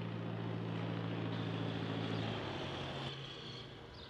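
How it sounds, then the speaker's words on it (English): Propeller airplane flying over a ranch horse trail course, a steady droning hum with strong low engine tones that holds loud and then slowly fades as it passes. "So there's going to be planes flying over all morning long."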